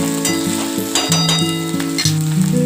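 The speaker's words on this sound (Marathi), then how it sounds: "तुम्ही पाहू शकता टोमॅटो आणि कांदा चांगला भाजला" Tomato and onion fry loudly in a pan for a Maharashtrian chavali bhaji, with a dense close sizzle and spoon scrapes and stirs breaking through, no voices.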